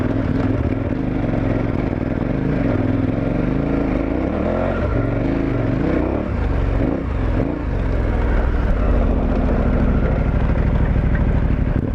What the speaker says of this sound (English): I had to shift into second gear and the tire went ahead and proceeded to propel us forward